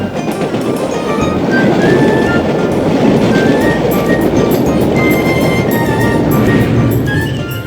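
A train passing at a railway station, a steady loud rumbling roar with faint high squeals and clatter running throughout, swelling slightly in the middle and easing at the end.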